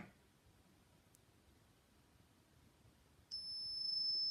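A multimeter continuity tester is held on a Nokia 520 phone speaker. After near silence, a sustained high-pitched electronic beep starts suddenly and holds steadily to the end, clear and close, with no speech.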